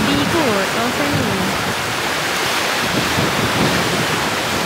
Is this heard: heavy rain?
yes